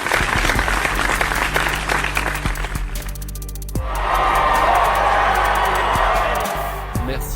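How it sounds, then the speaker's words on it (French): Audience applauding a singer at a Christian entertainment event, sharp hand claps that swell into a dense, loud burst of applause midway, with some crowd noise and low background hum. "une salve d'applaudissements pour Petou"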